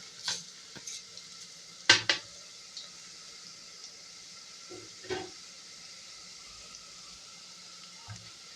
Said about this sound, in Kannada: ಈರುಳ್ಳಿ ಹಾಕೋಣ ಈರುಳ್ಳಿ ಸ್ವಲ್ಪ ಫ್ರೈ ಮಾಡಿಕೊಂಡು